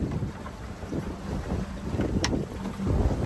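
Sailboat sailing at about 6 knots in 13–14 knots of wind: continuous rushing water and wind buffeting against the microphone, fairly loud and steady with no voices.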